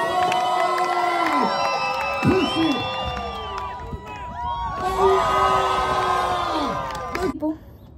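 A crowd cheers, whoops and shouts continuously at a loud, lively level, voices overlapping in a noisy, excited din.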